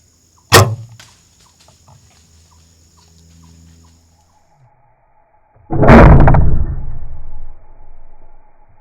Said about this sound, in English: there's no arrow in the Matthews. We just sent one fly.